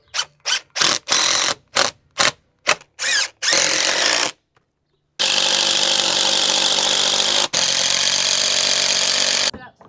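A drill drives construction screws into a wooden post to mount a hose reel. A series of short loud bursts is followed by two long sustained runs with a brief pause between them, close and loud.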